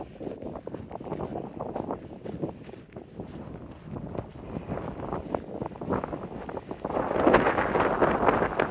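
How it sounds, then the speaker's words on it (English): Strong gusty wind buffeting the microphone in the desert at Joshua Tree National Park, rumbling and roaring in uneven bursts that grow louder toward the end, with no voices. "So windy here."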